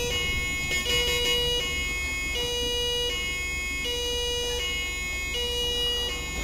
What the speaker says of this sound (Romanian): Fă-mă loc la ambulanță să treacă.